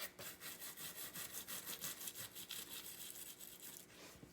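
A Honda XR100R carburetor float being rubbed down by hand, a steady rhythmic scratchy scrubbing of quick repeated strokes, close and fairly quiet, with no talking.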